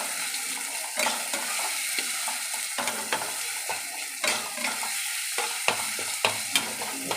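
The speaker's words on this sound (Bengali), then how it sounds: "হলুদের গুঁড়ো দিয়েও ভালো করে নাড়াবো" Morola fish is stirred with turmeric powder in a frying pan, a soft sizzle under repeated scraping strokes of a utensil against the pan, close and quiet, with no talking.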